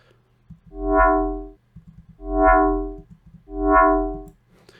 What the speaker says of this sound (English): this is just going to add a bit of unison to the sound as a whole to kind of thicken it up